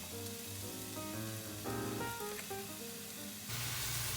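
Onions, peppers and mushrooms sizzle gently in a pan for marinara sauce, a soft, steady frying hiss that swells near the end, with music-like tones playing over it.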